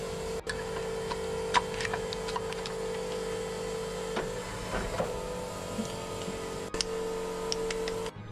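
A machine for casting fishing lures, holding a large container of hot molten lead, runs with a steady mechanical hum and tonal whine, broken by scattered ticks and a few sharper clicks.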